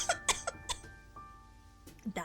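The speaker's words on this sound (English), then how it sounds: "Sorry for the coughing ASMR." A person coughs in several short, sharp bursts close to the mic, with a last pair of coughs after a quiet pause, during a study session.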